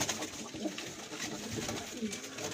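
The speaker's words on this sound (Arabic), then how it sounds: "هذا الحمام بيها 4 نياشين" Pigeons on a rooftop loft coo softly and continuously at close range, with low bird murmuring and faint background noise.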